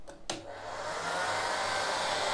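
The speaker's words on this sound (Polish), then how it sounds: "Suszarka nam ruszyła" A hair dryer switches on after a couple of clicks and quickly rises into a loud, steady whooshing drone, running as the load in an arc-fault protection test.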